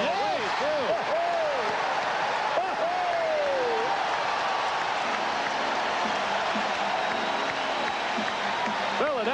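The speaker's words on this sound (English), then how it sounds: "this crowd really getting into it now" A 1991 Bulls vs. Sixers playoff basketball arena crowd roars steadily and loudly throughout, a dense wash of cheering with a bouncing ball and squeaking sneakers faintly audible, under a commentator talking.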